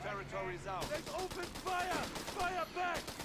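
Heavy machine gun fire in the Company of Heroes 3 strategy game, rapid clattering bursts running through the whole stretch beneath overlapping voices.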